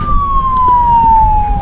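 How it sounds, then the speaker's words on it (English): A siren wails in the distance behind an outdoor Civil War artillery reenactment talk, its single tone slowly falling in pitch over low traffic rumble. "I got some competition back there with a siren"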